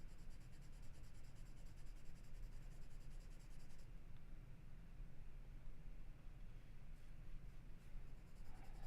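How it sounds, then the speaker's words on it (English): A charcoal pencil lays light washes across drawing paper for a mountain valley sketch, giving a steady, soft, close scratching and whisper of strokes throughout with no talking. "I'm just doing these really light washes with the with this charcoal pencil"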